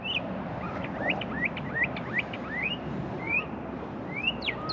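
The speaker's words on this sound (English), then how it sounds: "The birds are talking to each other." Birds twittering back and forth outdoors, making many short rising chirps in quick succession at moderate distance over a steady background hum.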